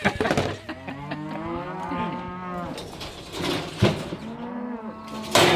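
Cows waiting with calves on a farm moo loudly and close by, several long, drawn-out bellows overlapping one after another with brief gaps, and no talk over them.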